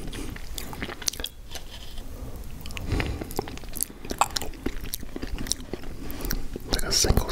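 Close-up crunchy bites and wet chewing of Cakesters cookies with thick icing filling, irregular mouth sounds with soft smacking, mixed with quiet talking.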